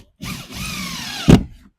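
A power drill drives screws into a wooden pyramid-shaped planter shell, a short close whirring burst with a brief pause, ending in a sharp knock.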